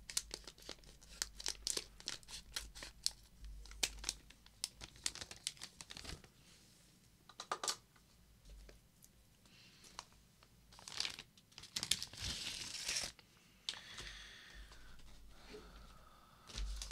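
Scissors or a blade cut into the broken but still sealed plastic package of a keyboard PCB, giving close, quiet crinkling and tearing in irregular bursts, with small clicks and rustles in between.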